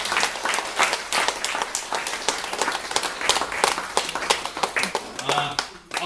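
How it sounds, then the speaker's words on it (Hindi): Loud, dense applause from a crowd at a village lecture in Mauritius fills the room, steady clapping throughout with a brief dip near the end. "जोरदार ताली बजाई जाए।"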